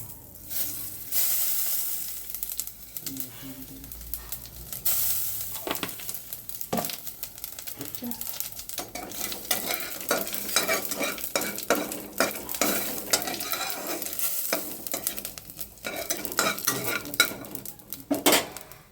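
Cumin seeds fry in oil while a spoon stirs them around the pan, producing continuous sizzling with scraping and clinking strokes against the metal, close and busy for the whole stretch, no voices.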